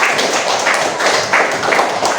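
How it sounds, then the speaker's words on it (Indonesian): Pupils in a classroom applaud the second group at a lesson's close: a continuous, busy wash of small hands clapping nearby, with slight swells in intensity. "beri tepuk tangan"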